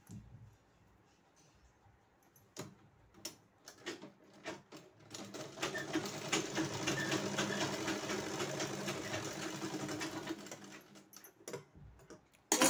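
An electric sewing machine runs a single line of stitching on a blouse, starting with a few slow ticks, then settling into a steady rapid whir for several seconds before stopping.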